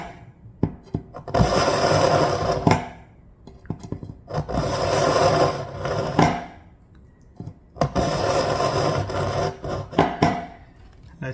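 A kitchen knife is drawn through a cheap pull-through knife sharpener in three long, gritty rasping strokes separated by short pauses and small clicks, close up and loud.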